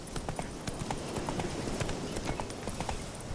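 Hooves of the horse in The Witcher 3 clip-clopping at a steady walking rhythm, fairly quiet, with faint ambient game sound underneath and no voices.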